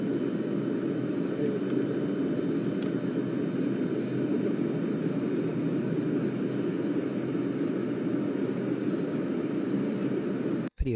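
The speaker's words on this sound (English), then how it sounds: "It's one of these propeller jets, propeller planes." Cabin of a small regional propeller plane on a local flight in Colombia, a constant loud droning engine and airflow roar that holds steady throughout before a sudden sharp thump at the very end.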